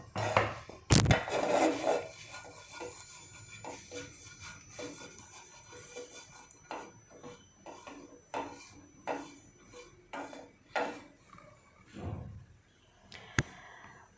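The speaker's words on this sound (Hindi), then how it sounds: "गरम तवे पर आप अपना पैन रख दीजिए" A pan is set down on a hot tawa while making oats atta biscuits, giving a sharp metallic clank near the start, followed by scattered lighter knocks and clinks of cookware through the rest.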